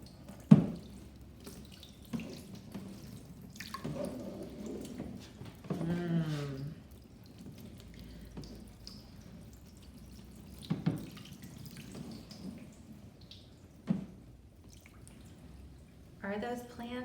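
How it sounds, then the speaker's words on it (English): Water poured in bursts over a floodplain model with plants on the watershed, splashing and trickling like a running tap, with quiet talk now and then. "let's see what happens when we pour a whole lot of water, not only upstream, but also on the watershed."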